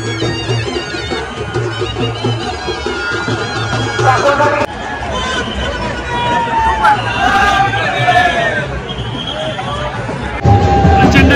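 Dense crowd of pilgrims at the Jyotiba temple fair in Kolhapur on Chaitra Purnima, where sasankathi poles are carried: a continuous babble of many voices and movement close around, with someone talking over it.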